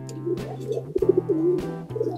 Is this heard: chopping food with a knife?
no